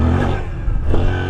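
A Suzuki V-Strom motorcycle revs hard for a wheelie, a brief loud engine roar rising in pitch with some wind and clatter.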